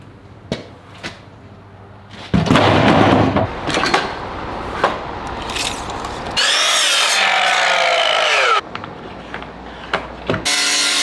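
A power saw cuts a full sheet of plywood in half for pantry storage shelving, with a loud, steady, whining cut lasting a couple of seconds amid clatter and handling knocks of the board.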